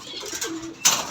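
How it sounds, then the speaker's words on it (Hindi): Soft, low cooing from Kasuri pigeon chicks inside a shed, a brief murmuring call followed by a sharp rustle near the end. "ये हमारे कसूरी कबूतरी के बच्चे, माशाल्लाह खूबसूरत, गुड लुकिंग।"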